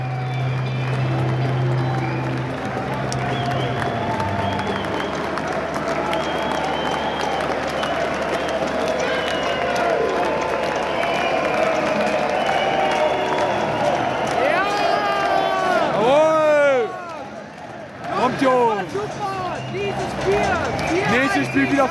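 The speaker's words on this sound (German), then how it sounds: "die Jungs holen sich jetzt ihren Applaus ab" A stadium crowd at a Magdeburg versus Kaiserslautern football match applauds the team with sustained clapping and cheering, loud and continuous, with someone talking close over the noise and whistles near the end.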